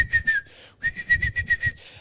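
A person whistles in imitation of a magpie's call: a bright, steady whistled tone in short repeated bursts, with a brief pause partway through, close and clear with no other talk.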